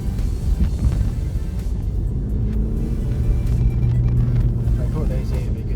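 An Opel Corsa Barina track car drives down a street, its engine rumbling and revving steadily at close range under continuous road and wind noise, without talk.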